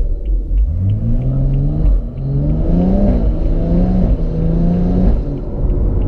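A car on an xHP Stage 2 launch control map, brake held and pedal floored, drones in a loud, close, sustained rev with rising and wavering pitch, without talk.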